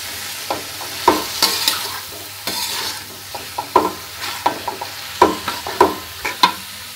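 Banana flower stirred with poppy seed paste and green chilies in a pan; irregular spatula scrapes and clicks sound close over a faint low sizzle, with no voices.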